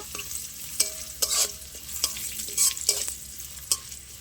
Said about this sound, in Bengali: এরকম একটু নেড়ে নেব